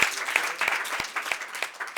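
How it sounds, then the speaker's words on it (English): An audience at a talk applauds for Brian Sharp with a thin, scattered round of claps, individual hand claps standing out in an uneven rhythm. "If we can give him a round of applause."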